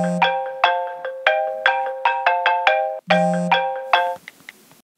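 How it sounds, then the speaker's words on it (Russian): A cell phone ringtone plays a bright, repeating chime melody, loud and close, cycling twice before cutting off, with no voices over it. "О, телефон."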